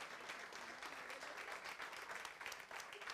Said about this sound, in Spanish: Recibe un aplauso para la gloria del nombre de Jesucristo